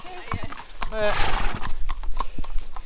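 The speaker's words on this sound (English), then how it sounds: "Oh, got some horses, better slow down." Horses' hooves clip-clop on a fell trail during a mountain trail race, with one horse giving a short whinny. The hooves sound close, mixed with footsteps, breathing and brief voices exchanging greetings.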